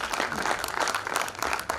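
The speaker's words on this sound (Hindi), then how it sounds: "प्लीज इनके लिए एक बार तालियां बजाइए।" A theatre audience in an auditorium in Jhansi claps steadily and densely to honor a guest, a brief, continuous, fairly loud burst of applause.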